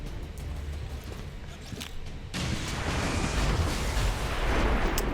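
Shredstorm cannon firing in XCOM 2, a broad roaring blast that jumps up sharply partway through and stays loud and dense to the end, with no talk over it.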